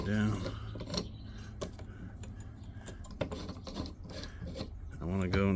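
Close mechanical ratcheting and grinding as a nut is spun down on a tool for stripping Romex cable, a continuous rough rasp with small clicks, with a voice briefly at the start and end.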